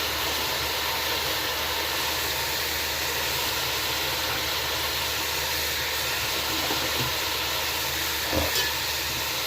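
Ginger and garlic hit hot oil with chicken in a pan, giving a steady, close broadband sizzle and hiss throughout, with a brief clatter near the end.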